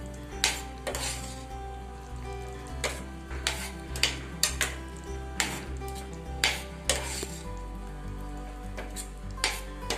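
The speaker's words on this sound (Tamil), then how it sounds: "இத வந்து ஒரு 2 மினிட்ஸ்க்கு அப்படியே கொதிக்க விட போறேன்." Meal maker gravy bubbling in a pan, with soft steady simmering under repeated stirring and light clinks of a spoon against the pan, all close and fairly quiet.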